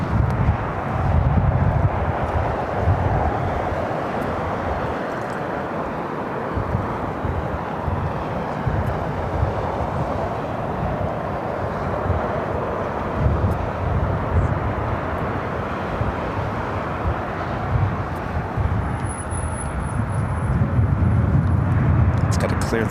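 A Boeing 767-300ER jet airliner takes off from LAX's south side in extreme winds, its engines giving a continuous broad roar with heavy wind rumble on the microphone, sustained and fairly loud throughout.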